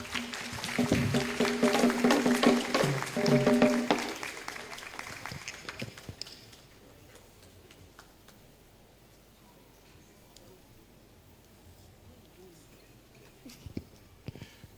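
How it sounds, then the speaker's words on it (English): An audience applauds after a speech at a Supreme Court event, dense clapping for about six seconds that then stops abruptly, leaving quiet room noise with faint ticks. "You don't need leave to applaud."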